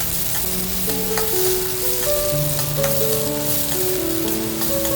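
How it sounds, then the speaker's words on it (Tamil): Crushed small shallots and curry leaves sizzle steadily in hot oil for thuthuvalai rasam, a continuous close frying hiss with light stirring, under a soft tonal melody throughout. "அடுத்து இப்போ நம்ம சின்ன வெங்காயத்தை ரொம்ப வதக்க வேணாம்"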